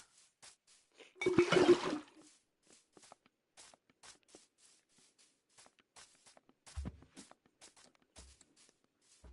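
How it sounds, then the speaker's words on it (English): Glass bottles are filled with water in the Minecraft video game, heard as one short watery gurgle, followed by faint, sparse footstep-like clicks in near silence. "I gotta fill them with water"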